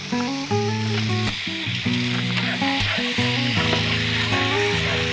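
Loud, steady sizzling of Japanese omelette batter frying in a pan with some stirring, set against a continuous bed of music.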